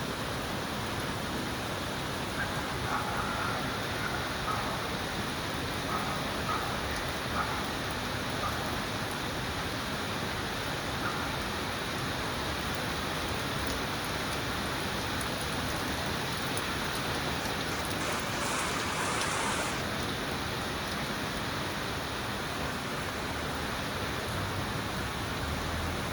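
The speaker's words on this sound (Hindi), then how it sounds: "आज तो बाउंड्री पे भी इतनी ज़ोर ज़ोर से बारिश हो रही है।" Heavy rain pours down continuously in a dense, even roar, with no voices and no letup throughout.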